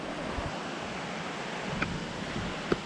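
A river flows near a 150-foot waterfall in Chiang Mai, a broad steady wash of moving water, moderately loud and constant, with a couple of faint clicks.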